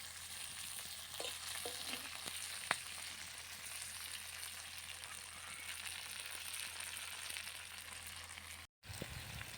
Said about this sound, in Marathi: आणि आपल्या मिरच्या आता मस्त अशा तळून झाल्यात लसूण ओला असल्यामुळे थोडासा वेळ लागेल